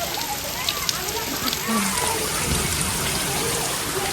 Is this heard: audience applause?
no